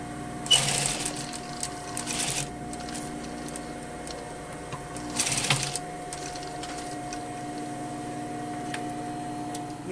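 A sewing machine stitches a handkerchief pocket in two short bursts near the start and middle, running quietly and close with steady hum and pauses between.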